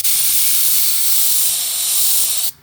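An airbrush hisses out paint in one steady, loud, close stream for over two seconds before cutting off abruptly, with no voices over it.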